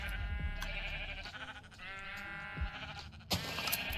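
Sheep bleating in the Minecraft video game, a few clear close-range bleats with harmonic, wavering tones, standing alone with no talk.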